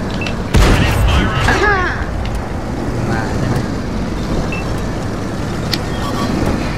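Tank cannon in a video game firing gold rounds at an enemy, heavy booming shots and rumbling engine noise amid battle clatter, with a player talking throughout.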